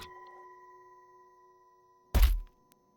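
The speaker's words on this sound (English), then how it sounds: "I even created a new sound effect to further emphasize the pain feeling of that crash" Video game crash effect for a player failing a landing: a sustained sonar-like electronic tone fades out, then one heavy, loud low thud with a short noisy burst, followed by a tiny click.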